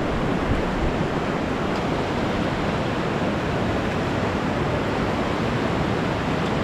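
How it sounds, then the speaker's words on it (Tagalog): Strong river current in a flooded river after a typhoon in the provinces, a dense, constant roaring rush of water, loud and unbroken, with no voices. "Malakas ang agos dito"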